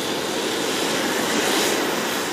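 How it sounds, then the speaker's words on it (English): A Harrier jet engine winds up on the ground with brakes on, a loud, steady broadband roar that builds slightly as it accelerates, close and continuous with no talk. "The brakes are on and the engine's winding up."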